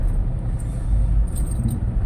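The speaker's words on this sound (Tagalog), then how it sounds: "Ayan ang traffic." Heavy road traffic on the Quezon Avenue flyover heard from inside a vehicle, a steady low rumble of engines and tires with faint rattles, close and continuous.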